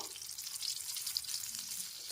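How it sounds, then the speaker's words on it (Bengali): Pieces lightly frying in a pan and being turned from side to side make a close, continuous bright sizzle that holds level for a couple of seconds, with no voices. "সবকটা টুকরোই দিয়ে দিচ্ছি এপাশ ওপাশ করে একটু হালকা করে ভেজে নেব"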